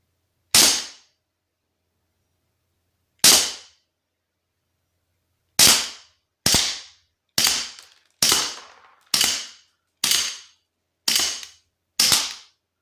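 Swiss Arms Colt 1911 Seventies pistol fired in single shots, two spaced-out cracks followed by a quicker run of eight sharp reports, each short and punchy against silence.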